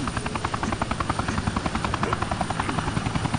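A helicopter in the video game Vivisector flies close, its rotor chopping in a fast, steady pulse, loud and alone.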